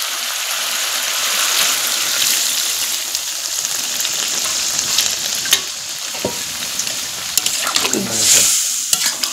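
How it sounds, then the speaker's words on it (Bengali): Water goes into frying chicken curry masala, and the steady, loud sizzle of the pan swells into a brief hissing burst near the end, with some stirring close by. "কষানো হয়ে গেছে, এখন আমি দিয়ে দেব জল।"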